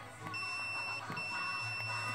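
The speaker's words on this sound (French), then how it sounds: "Et ça c'est le bip d'avertissement." Warning beep from a dog training collar remote, a few short electronic tones repeating over steady background noise, fairly close.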